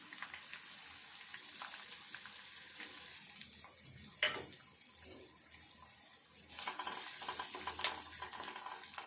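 Thinly sliced onions fry in hot oil with mustard seeds and cumin, giving a steady close crackling sizzle with a few sharper pops and stirring noises.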